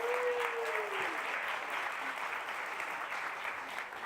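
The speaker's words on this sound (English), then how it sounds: "Round of applause for our contestants." A crowd applauds steadily for contestants on stage, a dense wash of clapping that continues throughout, with a short rising tone at the start.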